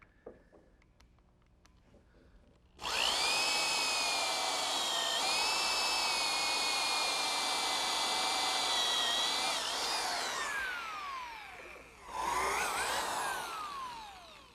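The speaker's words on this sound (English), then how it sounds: "a counterbore is best made with a Forstner bit, and because of its shape, it cuts a nice flat bottom hole" A Forstner bit bores a flat-bottomed counterbore into wood for a picnic table bolt, a loud steady whine starting abruptly after a quiet moment, tapering and dipping near the end, then a brief second burst.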